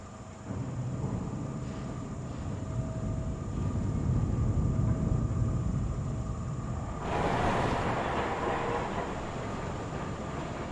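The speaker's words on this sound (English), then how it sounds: "Just in time to catch the tram." A tram pulling in within World of Warcraft Classic gives a steady low rumbling roll, swelling in the middle and brightening into a rushing whoosh near the end, heard alone without talk.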